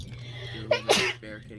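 A single sharp sneeze bursts out mid-sentence during a live Dungeons & Dragons session, loud and close, with people talking just before and after it.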